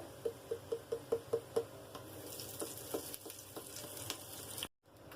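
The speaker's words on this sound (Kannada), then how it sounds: "ಸಾಸಿವೆ ಹಾಕ್ಲಿಕತ್ತೀನಿ ಹಿಂಗೆ ಹಾಕೋಣ" Mustard seeds dropped into hot oil for tempering: quiet crackling and sizzling from the pan close by, opening with a run of evenly spaced light ticks, then a faint, steady fry until it cuts off abruptly near the end.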